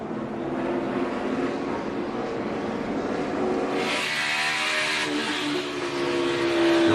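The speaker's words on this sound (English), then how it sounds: "You can hear that tire pop, pop, pop, pop, pop, pop, pop." Denny Hamlin's race car running with a flat right front tire, a loud steady engine roar recorded on board, with a repeated rough popping from the damaged tire.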